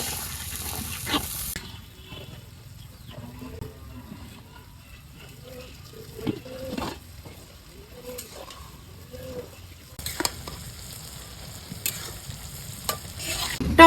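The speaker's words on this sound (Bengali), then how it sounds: "টমেটোর লগে পেঁয়াজ কুচি দিয়ে ভাজে নিছি" Onion and tomato being stirred and fried in a pan with turmeric, chili powder and salt; a soft background sizzle under repeated scraping and clinking stir strokes, with a few sharper knocks near the end.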